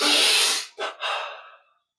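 A close, breathy inhalation during a meditation exercise, a long drawn-in breath followed by two shorter sniffing pulls that fade out into silence.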